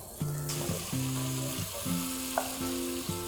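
Carrots for plov fry in a pan with a steady sizzle, while repeated stirring or scraping strokes add short tonal squeaks at a regular rhythm close to the microphone, with no talking.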